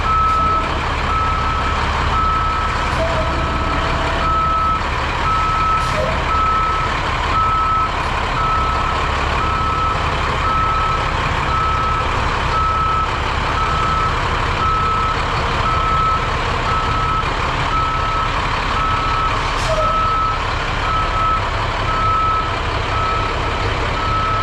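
A snow plow truck backs out of a garage, its reversing alarm beeping in a steady regular rhythm over a loud continuous engine rumble for the whole stretch.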